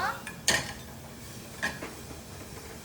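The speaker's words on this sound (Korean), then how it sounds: "샐러리, 마늘, 그리고 양파 이렇게 볶아주시는 거예요." Celery, garlic and onion sautéed in a pan, heard as a few sharp metal clinks of utensil against the pan over a faint background hiss, with gaps between.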